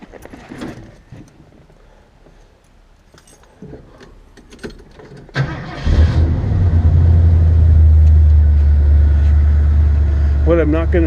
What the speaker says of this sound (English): Let's see if I have enough time to start it. It's not been warmed up since this morning